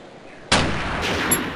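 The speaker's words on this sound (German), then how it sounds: "ich hab mit einem Schuss geschossen, also ich hab mit der Longhorn geschossen" A single loud Longhorn gunshot in the video game DayZ cracks sharply, then a long broadband echo fades away slowly, with no voices.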